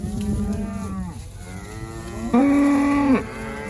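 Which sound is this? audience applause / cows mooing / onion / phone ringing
cows mooing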